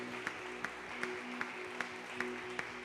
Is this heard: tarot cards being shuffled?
no